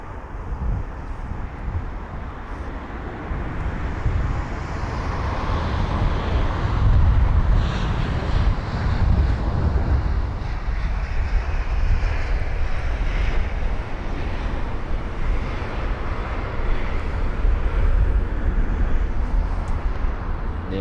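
An Airbus A319 at London Heathrow passes with a continuous, broad engine roar that swells to a peak midway and then holds steady, fairly close, with some wind buffeting on the microphone.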